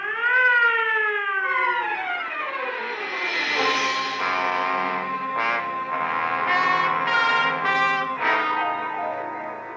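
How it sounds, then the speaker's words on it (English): Ambulance siren as a radio drama sound effect, a wailing tone rising and falling, then swelling into loud repeated whoops with echo, heard alone. "Clear the way for the ambulance."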